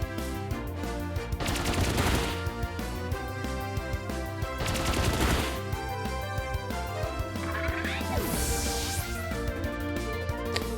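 Rapid volleys of video game battle effects from Pin Missile in Pokemon Shining Pearl ring out over constant looping game music, with a few dense bursts of sharp hits.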